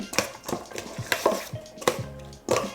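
Lobster salad with lemon juice, cayenne, black pepper and kosher salt being mixed in a bowl, with rhythmic clinks and scrapes of a utensil against the dish, close and distinct.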